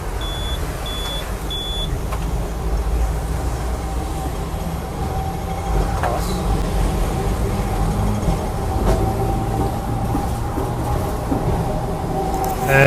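Steady rumble and rattle of a Hong Kong tram ride heard from on board, a continuous loud rolling drone with a few short electronic beeps near the start and no talking.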